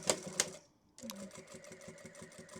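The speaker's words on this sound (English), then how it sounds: "Run a stitch along that edge." Sewing machine running a rapid, even run of stitches along the edge of a handmade glasses case, close and steady, after a couple of brief clicks and a short pause.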